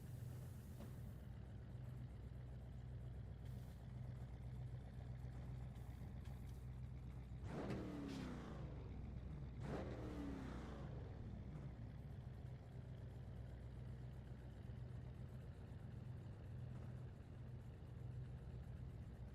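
A NASCAR race car idles at Darlington Raceway in iRacing, a low steady engine drone running throughout, with a couple of louder surging revs in the middle before settling back to a quiet idle.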